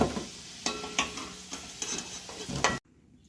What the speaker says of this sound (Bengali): আলুটা আমার ভাজা হয়ে গিয়েছে, তো এবার আমি তুলে নিচ্ছি